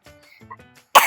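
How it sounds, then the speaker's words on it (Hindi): A single sharp cough bursts out close to the microphone at the very end, after a stretch of quiet murmured speech at home. "झूठ तो नहीं बोल रहा, खांसी हो गई मेरे को।"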